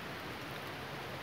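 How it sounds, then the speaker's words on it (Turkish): Rain falls steadily on a lake cove in Switzerland during warm weather, a soft, even hiss of drops close by with no talk over it. "Yağmur yağıyor."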